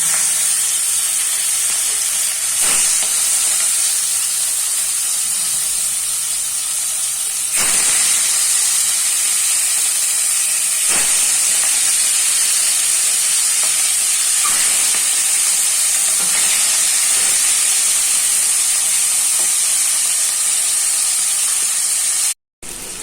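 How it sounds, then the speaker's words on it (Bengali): Large parshe fish frying in oil in a kadai for a Bengali curry, a steady loud sizzling hiss with a few sharper bursts, no talking. "কড়াইতে মাছগুলো ছেড়ে"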